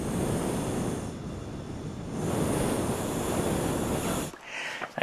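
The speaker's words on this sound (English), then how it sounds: "by blowing on the microphone there and also varying how hard or soft I blow on it" Breath blown through a straw straight onto a microphone, a loud roaring rush of wind noise that swells and eases in strength for about four seconds before cutting off into a few faint puffs.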